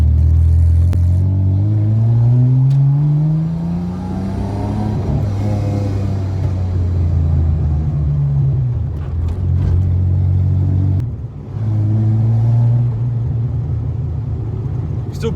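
Nissan R31 Skyline with an RB30 non-turbo engine and stainless steel straight-pipe exhaust, idling and blipping close by with deep rumbling burbles and rising revs, plus a few sharp cracks.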